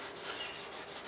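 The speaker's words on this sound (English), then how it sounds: "I keep rubbing, I'm just going to make them larger." Rubbing compound is worked by hand over the body of a 1998 Ford Contour, making a continuous close scuffing rasp with faint rhythmic swells.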